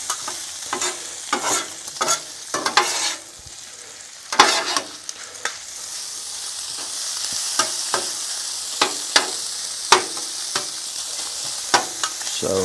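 Cabbage, sausage and shrimp fry on a Blackstone griddle with a steady bright sizzle, broken throughout by sharp scraping and clacking as a spatula tosses and stirs the food. No one speaks.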